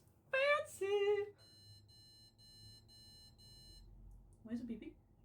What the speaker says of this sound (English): Why is it beeping? Is beeping bad?